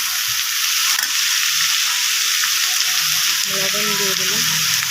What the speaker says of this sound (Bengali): এখানে আলু ভাজা করবো, ডাল আলু ভাজা।